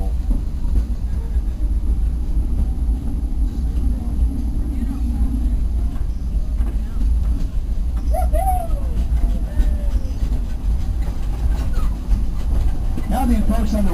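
The Frisco Silver Dollar Line excursion train rolls along its tracks on July 4th, giving a steady, close low rumble with faint rhythmic clatter and a few brief higher tones near the end.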